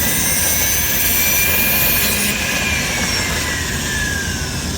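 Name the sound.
Foredom rotary tool spinning sanding disc at high RPM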